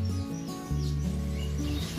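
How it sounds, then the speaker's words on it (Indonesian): Two pigeons give low, throaty cooing with a snoring, rasping quality, repeated sustained tones close by with no talk. "Nah, ini suaranya kayak ngorok-ngorok gitu ya,"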